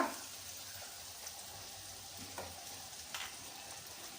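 Soaked flattened rice (poha) fries in hot oil in a pan, giving a faint, steady sizzle with a few light stirring scrapes and no talking.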